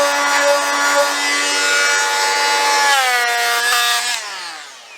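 An oscillating multi-tool in sanding mode grinds at the seacock holes in a boat hull, a loud, steady, buzzing hum that holds for several seconds, then shifts in pitch and fades toward the end.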